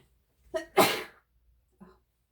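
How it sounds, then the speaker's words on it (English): A single loud sneeze with a short inhaled build-up, followed by a faint breath, alone in a quiet room. "I'm going to sneeze."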